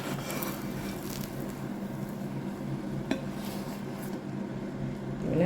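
Clattering of dishes and cutlery as a Jaffna-style cumin fried egg is moved from the pan into another bowl, with light scraping and clinks under a steady kitchen hiss, one sharper knock near the middle.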